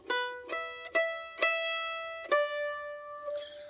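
A mandolin plays a short jig phrase of plucked notes, each struck clearly and left ringing, in an uneven lilting rhythm, close and alone.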